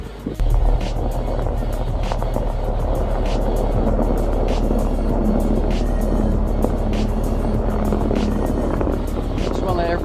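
A Mercedes-Benz E55 AMG drives through about eight inches of snow, its engine a steady, loud, close rumble that runs unbroken throughout under the noise of the car moving.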